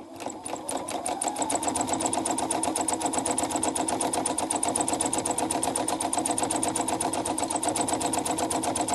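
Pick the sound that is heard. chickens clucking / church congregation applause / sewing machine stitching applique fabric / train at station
sewing machine stitching applique fabric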